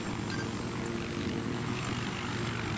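Battlefield 4 helicopter in flight, a steady, close rotor and engine drone with a constant throbbing hum, heard alone.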